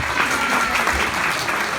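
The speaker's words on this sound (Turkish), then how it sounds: "Onun için bir alkış rica edebilir miyim Taner öğretmenim için?" Audience applause for teacher Taner Bayır at a Teachers' Day award ceremony at Çaykara Köknar Middle School: steady, dense clapping from a room full of people, sustained evenly throughout without talk.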